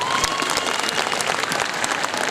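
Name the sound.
audience applause for children's performance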